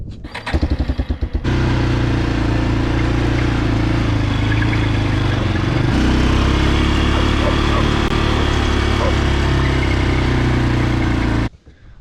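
Old four-wheeler ATV engine idling close by on a farm at sunflower harvest, a steady rumbling putter after a brief rough start, cutting off abruptly at the end.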